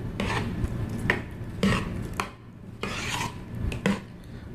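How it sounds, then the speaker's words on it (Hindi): Bananas and apples being stirred together in a bowl for a fruit trifle, giving soft rasping, scraping strokes in irregular bursts, close and moderately loud, with no voices. "उसके बाद हमारे केले और सेब, ठीक है। ये डालने के बाद इसको आप एक बार का मिक्स कर लें।"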